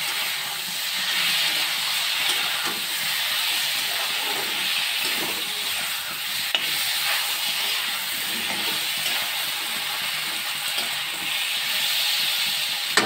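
Onion paste hits a hot pan for Bengali aloo begun fish curry, giving a steady, loud, continuous sizzle and hiss that holds evenly throughout with a few faint clicks.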